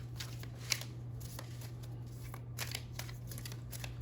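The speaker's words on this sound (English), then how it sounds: "Let me just get a few more cards." Psychic reading cards being shuffled and drawn, with soft papery riffles and slides coming in short bursts over a steady low hum, close and quiet, with no voices.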